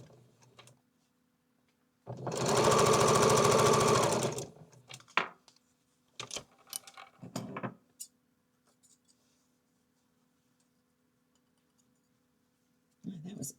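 A sewing machine stitches fabric for a log cabin quilt block, one loud steady two-second whir followed by clicks and handling noises, with brief talk near the end.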